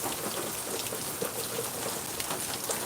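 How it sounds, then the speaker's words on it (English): Steady rain falls outdoors near a plant, a dense hiss of drops pattering on surfaces throughout, close and continuous with no voices. "Rain."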